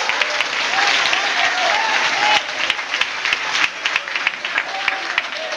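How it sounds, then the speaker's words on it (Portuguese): A church congregation breaks into loud applause in praise of the Lord, a full and close wash of clapping that thins into scattered individual claps toward the end, with a voice rising faintly through it. "Você pode aplaudir o Senhor dos Exércitos"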